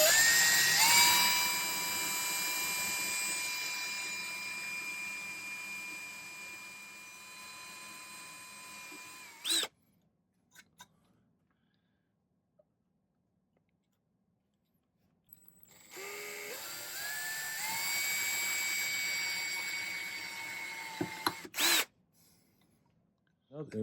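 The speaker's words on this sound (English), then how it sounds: "I'm going to use my drill rather than my Dremel" An electric drill bores a hole in a silver pendant with a high whining spin that holds steady for about nine seconds, then stops with a few clicks. After a quiet gap it spins up again for a second burst.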